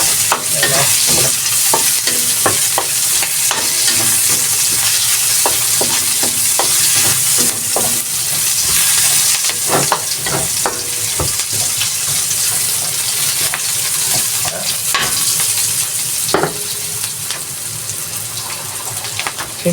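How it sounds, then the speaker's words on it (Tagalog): Chicken sizzles steadily in a reduced amount of frying oil in a pan while being sautéed for chicken bistek, with repeated scrapes and clinks of stirring over a constant loud hiss and no talking. "Kung saan ko piniprito, dyan ko na rin gisa."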